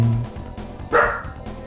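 A puppy in a hallway gives a single sharp bark, slightly distant and muffled, over a faint background hum with no talking.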